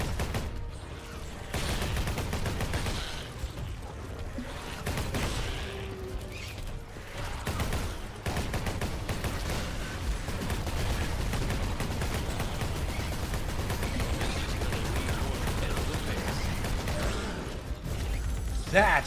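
Rapid, sustained chain gun fire from a fantasy combat video game, a dense mechanical rattle running nearly the whole stretch at steady loudness, with brief dips and a sharp burst near the end.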